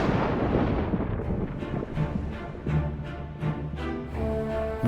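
Thunder from lightning rumbles in a series of deep rolling booms and cracks, loud and close, one after another, with no voices.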